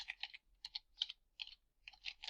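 Quick bursts of typing on a computer keyboard, crisp close key clicks in uneven clusters with brief pauses, no voices.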